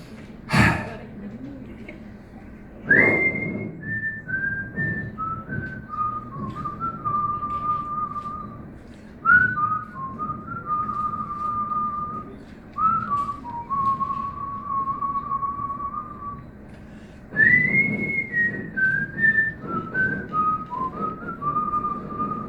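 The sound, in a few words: group whistling together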